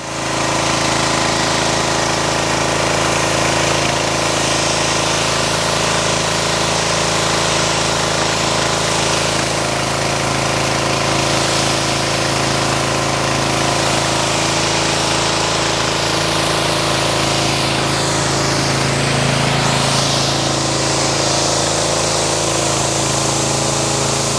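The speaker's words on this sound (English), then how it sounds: "let's go ahead and get the pressure washer set up and see how this rinses" A pressure washer engine drones loud and steady throughout while rinsing a ceramic-coated car, a constant close-up mechanical hum with a faint spray hiss on top and no pauses.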